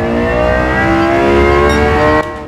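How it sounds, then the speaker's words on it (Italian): A Lexus LFA's V10 revs hard in Gran Turismo 7, a loud, sustained high-pitched howl with rich harmonics that holds steady and then drops off abruptly near the end. "questo V10 riesce a trapanare pure tutta l'insonorizzazione qualsiasi di un'auto stradale"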